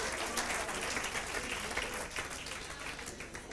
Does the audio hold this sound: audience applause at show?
yes